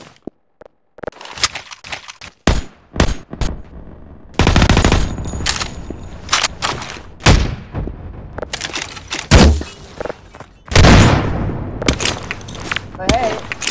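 Gunfire from new weapons in the video game Garry's Mod, bursts of rapid shots and scattered single blasts mixed with game effects, with a voice talking at times.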